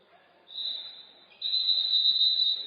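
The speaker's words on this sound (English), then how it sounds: "Now we got a whistle from the other end." Referee's whistle at a high school boys basketball game, IKM-Manning at Panorama: a shrill tone blown in two blasts, a short one followed by a longer sustained one, fairly loud over faint gym ambience.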